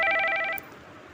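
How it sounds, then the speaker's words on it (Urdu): An electronic telephone ringing in a horror story, a bright warbling ring of rapid pulses that stops abruptly halfway, leaving a quiet hiss. "فون کی گھنٹی بجی"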